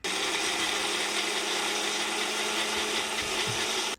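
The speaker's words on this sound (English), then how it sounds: "You're going to blend that together, and that's going to be your date caramel." A blender whirs steadily as it purées dates with coconut milk for a date caramel, a loud continuous motor hum running the full length without pause or talk.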